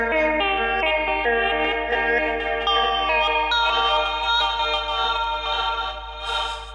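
Synthesizer sent through a plate reverb into a Mutable Instruments Beads granular module, a bright stepping melody of sustained tones with a shimmering, smeared tail over a steady low hum.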